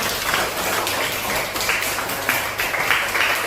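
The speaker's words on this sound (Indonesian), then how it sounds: "tepuk tangan buat Mas Rizal." A school class claps for a classmate named Rizal, a steady, busy patter of hands that carries on throughout with no voices standing out.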